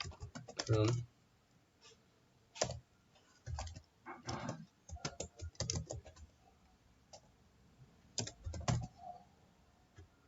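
Computer keyboard keys tapped in short bursts while entering a GitHub password at a desk, crisp clicks separated by pauses, with a voice talking intermittently around them.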